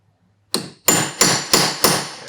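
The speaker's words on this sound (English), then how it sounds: "just a little more chisel work here" A hammer strikes a chisel five times in a steady rhythm while a Kawasaki Ninja 400 race chain and sprockets are installed, each blow sharp and close with ringing decay, no talking.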